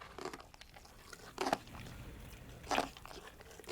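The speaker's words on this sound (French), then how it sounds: "Waouh, ils arrivent à mâcher de si gros morceaux de bois?" Elephants at a rescue sanctuary near Johannesburg chew large pieces of wood, giving three faint, separate crunching bites spaced over a few seconds against quiet outdoor background.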